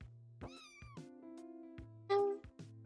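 A cat meowing in a video game, several clear, tonal, synthetic-sounding meows over a repeating low electronic game tone, one louder sharp meow near the end, no speech.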